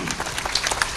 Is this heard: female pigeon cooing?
no